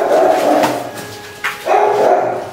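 A frightened rescued dog, picked up at night in the rain, barks in two loud, close bursts separated by a brief pause, with nobody speaking over it.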